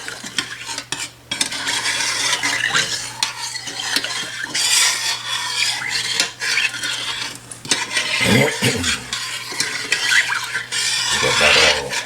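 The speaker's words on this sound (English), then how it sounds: "Start the stirring process here." A spoon stirring a thick coconut raisin fudge mixture in a pot, with continuous scraping and swishing against the metal, occasional clinks, and a faint hum underneath, close and steady throughout.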